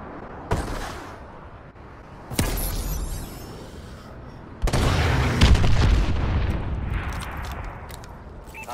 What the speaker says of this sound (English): Friendly missile strikes inbound.